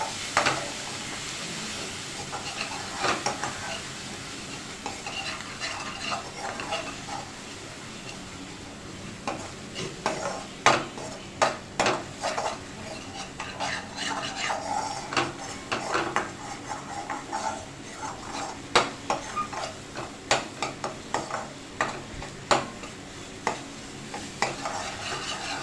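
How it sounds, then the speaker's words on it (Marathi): Black masala and Kashmiri red chili sizzle softly in a pan. A spoon clinks and scrapes now and then as the spices are stirred, and no one speaks. "हे छान परतून घेणार आहोत।"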